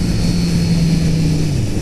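A 2018 Kawasaki Z900RS motorcycle on the move gives a low, steady engine and exhaust drone mixed with intake roar, with a faint tonal whine above. It falls slightly in pitch near the end and no one speaks.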